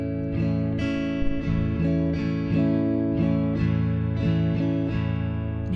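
An acoustic guitar strums a calypso rhythm in short bursts, the pattern breaking off at intervals between chords, close and steady with no voices.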